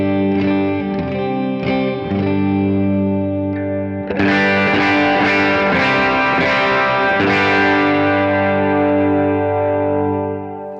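Overdriven electric guitar strummed clean-ish on the middle pickup, then switched to the bridge pickup and dug into harder, louder chords that break up and ring out with a long fading sustain; no talking.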